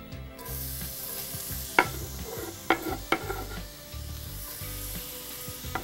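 Onions frying in extra virgin olive oil give a steady close sizzle, broken by a few sharp clatters of stirring and pan contact spaced through the stretch.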